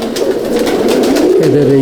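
Coimbatore pigeons coo steadily in a loft, low rolling calls repeating throughout, with someone speaking over them.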